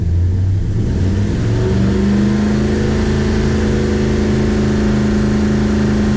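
A 1965 Plymouth Satellite engine revs from idle up to a steady 3,000 rpm, a loud, close, continuous drone whose pitch climbs over the first couple of seconds and then holds, with no talking.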